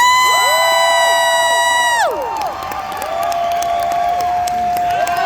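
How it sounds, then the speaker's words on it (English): A convention crowd at a Superman and Lois fan panel at Fan Expo Dallas screams, whoops and cheers loudly for the panel guests, a dense roar with high shouts throughout, easing slightly partway through. "Please scream, hoot, and holler for Alex, Jordan, Bitsy, and Tyler!"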